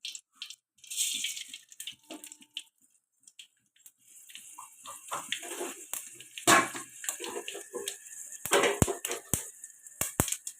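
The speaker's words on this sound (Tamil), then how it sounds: "கடுகு பொரிஞ்சதும்" Mustard seeds splutter and pop in hot oil in a pan, scattered sharp crackles that begin sparse and grow into denser bursts of snapping, close and fairly loud.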